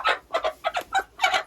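A hen clucks repeatedly while being held and handled by hand, short rhythmic bursts of clucking close up and fairly loud, with no talking over it.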